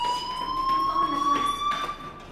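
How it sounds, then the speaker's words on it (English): In the video game Life Is Strange, a fire alarm sounds as a steady, fairly loud electronic tone that holds throughout, with faint background ambience and no talk. "Hey, do you hear that fire alarm?"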